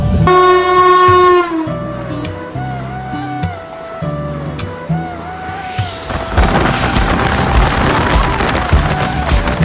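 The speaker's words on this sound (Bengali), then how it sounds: "এটাই এখন ট্রেন ঝোড়ে ঝোড়ে করছে" The New Delhi–Howrah Poorva Express, an Indian train running at speed, blares its horn for about a second, then its rumble and rattling clatter swell and continue steadily to the end.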